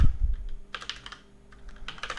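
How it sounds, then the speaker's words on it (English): Bursts of quick keystrokes on a computer keyboard, two clusters of rapid clicking separated by a short pause, close and crisp with nobody speaking. "just type in WhiteSur"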